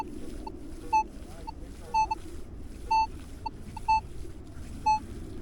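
A Minelab Equinox 900 metal detector sweeping over a deep silver sixpence buried in soil gives a faint, evenly repeated beep about once a second, five times, over low background noise.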